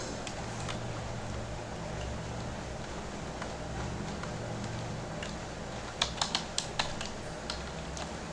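A computer keyboard being typed on up close while writing Python code, with soft irregular key clicks over a steady low hum and a brief cluster of sharper taps near the end; no talk.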